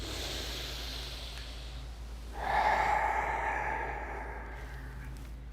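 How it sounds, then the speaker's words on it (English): A couple of deep breaths taken during a calm guided session, one long audible inhale-exhale swelling in the middle, fairly close, alone over a low steady background hum. "take a couple of nice breaths"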